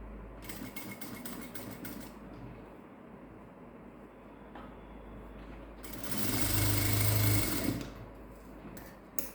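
Sewing machine stitching a cotton saree blouse, a steady mechanical whir running throughout that swells into a louder, faster burst of stitching near the end, with no talking.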